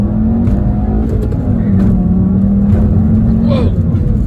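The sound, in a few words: 2015 Volkswagen Jetta GLI 2-liter turbo accelerating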